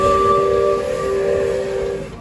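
A steam locomotive at a heritage road, rail and ale show gives one sustained, loud whistle blast, a steady piercing tone that holds for about two seconds before cutting off.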